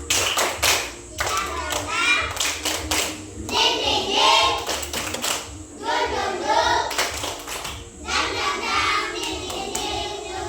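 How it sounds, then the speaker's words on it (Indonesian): A primary school class of second-graders performs the 'tepuk semangat' clapping cheer, bursts of rhythmic group handclaps broken by short pauses, with children's voices chanting along between the claps. "Kita tepuk semangat dulu ya"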